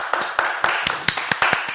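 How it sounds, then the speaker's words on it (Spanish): Applause for Edgar Campbell Carr, a guest on the Voces del Caribe radio show: a short, close burst of scattered hand claps with an irregular rhythm and no talking over it. "le damos un fuerte aplauso a don Edgar"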